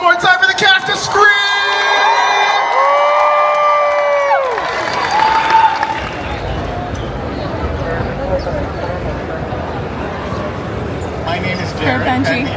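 A convention audience at the close of a panel for the cast of Scream cheers, whoops and applauds loudly right after an announcer's amplified call to the room, the roar settling into sustained clapping and crowd noise.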